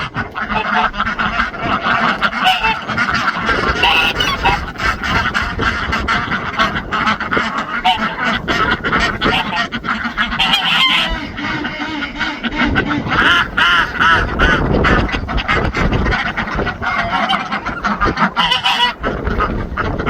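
Ducks kept in a barn quack and honk loudly and continuously at close range, a dense overlapping chorus of many birds, with a person's voice occasionally audible underneath.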